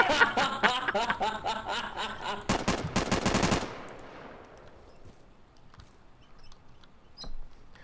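Friendly fire in the co-op shooter game Insurgency: rapid, loud bursts of automatic gunfire crackle for about three seconds, then give way to a quiet ambience with faint scattered noises.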